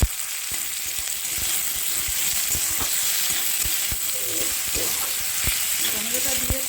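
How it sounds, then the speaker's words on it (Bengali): A medium-sized tomato frying on a low flame for a fish-head and spinach-stem dish, with a steady close sizzle broken by frequent sharp spatula taps and stirring clicks, no speech. "টমেটোটা দিয়ে খুব ভালো করে একদম লো ফ্লেমে খুব ভালো করে ভেজে নেব।"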